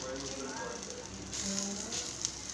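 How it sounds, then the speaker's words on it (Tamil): Oil sizzles steadily around a whole wheat roti frying in a pan, a continuous close hiss under a voice talking throughout. "இதுலேயும் இப்போ எண்ணெய் விடுவோம், சுற்றி மேலேயும் விடுவோம் சுற்றியும் விடுவோம்."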